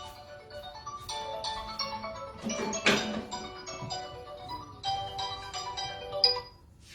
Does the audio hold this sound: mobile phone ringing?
yes